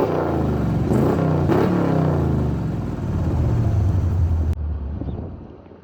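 Old Ford F100 farm truck with a five-speed, its engine revved hard in a loud, rising roar with throttle blips, then settling to a lower rumble before cutting off near the end.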